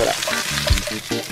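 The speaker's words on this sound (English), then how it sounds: "The leaf lard's hot in the skillet. Carrots on top." Carrots frying in hot leaf lard in a skillet, a steady close sizzle with brief stirring scrapes, heard alone without talk.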